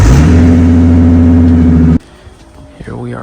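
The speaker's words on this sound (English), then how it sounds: "Not every day you see me cold start the green Mustang" A green Roush Stage 3 Mustang, a supercharged 750 hp build, cold-starts with a loud, steady engine roar that holds for about two seconds, then cuts off abruptly, leaving quieter background noise.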